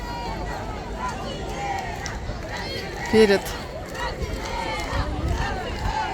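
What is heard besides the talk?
party crowd cheering at night near the Colosseum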